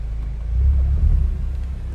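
Low, throaty performance exhaust rumble from a 2024 Chevrolet Colorado ZR2 pickup truck idling steadily, swelling slightly in the middle, deep and close with no other sounds.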